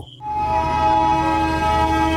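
A Darjeeling Himalayan Railway train horn blares loud and steady, sustained over the low rumble of the train moving close by.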